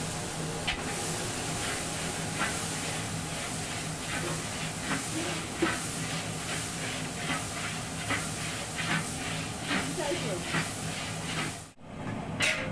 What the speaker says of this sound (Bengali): পাশের কড়াইতে পাতাটা করে নেব তাই ফোড়ন দিয়ে দিয়ে দিলাম পেঁয়াজ পেস্ট